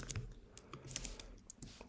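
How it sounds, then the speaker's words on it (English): A computer keyboard clicks faintly and irregularly during typing, with short quiet taps scattered over low background noise. "Sorry for the clicking."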